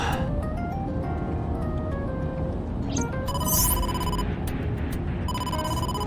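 A telephone rings in the video game AI: The Somnium Files, repeated electronic trills with a bright chime-like tone layered over steady background music; no voices.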